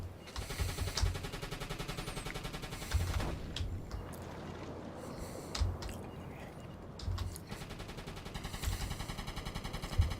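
Submarine deck guns fire in the naval video game UBOAT during a World War II setting, with rapid bursts of automatic gunfire and heavier thumping shots over a constant engine rumble, continuing throughout.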